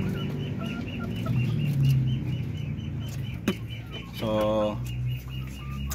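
Native Darag hens on a Filipino farm cluck in short repeated bursts, with one sharper squawk standing out, while someone talks over them.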